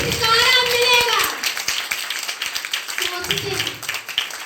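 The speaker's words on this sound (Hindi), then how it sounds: "ताली के साथ तारीफ करें" A church congregation claps in praise, a run of sharp, uneven hand claps spread through the clip, with voices speaking over and between them.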